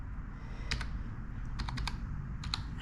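Quick clusters of keystrokes on a computer keyboard as a web link is typed in, several short bursts of clicking over a low, steady room hum.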